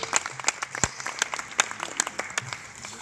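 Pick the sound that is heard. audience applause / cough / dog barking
audience applause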